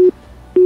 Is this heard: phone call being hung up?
yes